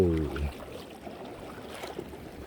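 Wading slowly into the sea at a rocky shore point in Pohang on the way to sea bass float fishing, water sloshing and swirling softly around the legs, close and continuous after a brief low voice at the start.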